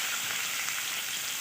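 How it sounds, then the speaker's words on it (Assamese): Onions frying in hot oil for a prawn malai curry, a steady dense sizzle that holds evenly throughout, close and fairly loud with no talk. "পিঁয়াজখিনি ৰঙা কৰি ভাজি ল'ব লাগিব"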